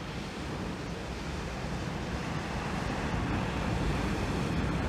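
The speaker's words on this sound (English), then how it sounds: "the wind has definitely picked up" Steady, broadband wind roars across an open shingle beach at Cley, Norfolk, with surf blended into the rush, loud and constant throughout with no voices.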